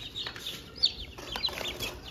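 Young Rhode Island Red chickens at a farm give high chirps and soft clucks in scattered bursts, fairly close, with a faint flutter of wings and no speech.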